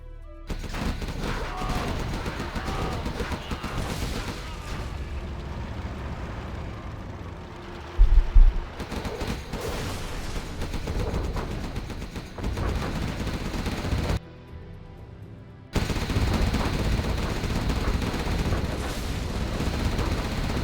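Battle in the real-time strategy game Command & Conquer Generals: bursts of gunfire and explosions from China overlord tanks attacking a command center. Dense, clattering combat noise with brief louder blasts and a couple of short quiet gaps.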